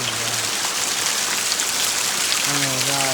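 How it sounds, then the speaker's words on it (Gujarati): Heavy rain pours down in a dense, constant hiss, with a voice speaking briefly at the start and again near the end. "એટલો વરસાદ આવે"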